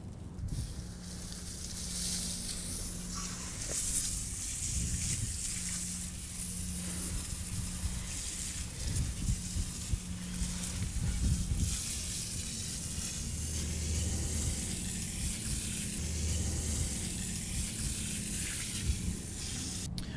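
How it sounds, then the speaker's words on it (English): Water spraying from a hose rinses a Toyota Supra 3-piece wheel, a steady broad hiss running the full length with slight surges and no talking. "So now it's just time to rinse this down."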